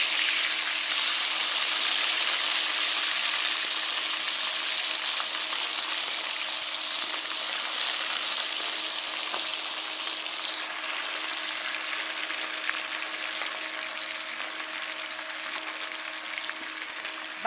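Turmeric, chili and salt marinated fish frying in a pan, a steady loud hissing sizzle that holds throughout with slight crackle, no voices.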